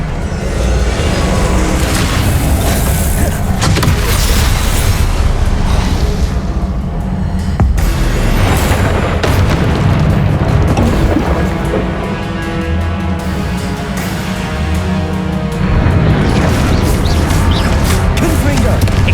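Loud, dense booms and crashes of Confringo blasting spell explosions in Hogwarts Legacy, bursting repeatedly with little pause, with a voice calling out spell names amid the din.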